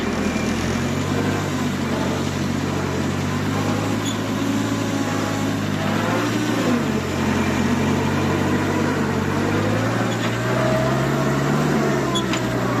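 Homemade tractor built on a Kukudak MB-20 motoblock, its engine running as it drives: a steady, loud, low mechanical drone that holds unbroken for over twelve seconds, with no voices.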